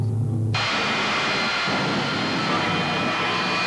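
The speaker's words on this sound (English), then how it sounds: "This is TV Tommy Ivo's latest race car, his jet-powered dragster." Jet-powered dragster race car engine, a sudden loud jet roar that bursts in after a low idle and holds as a dense, continuous blast.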